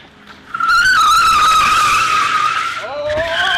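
A Lexus GS300 with a newly installed 2JZ engine revs loud and close, holding a sustained high-pitched howl for a few seconds before the pitch drops and climbs again.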